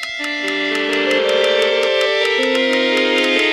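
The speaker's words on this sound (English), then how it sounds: "if you right-click with the bow, you can turn the violin on" Sustained synthetic violin tones from a Minecraft music mod held in overlapping layered notes, with faint regular clicks ticking through, loud and close with no talking.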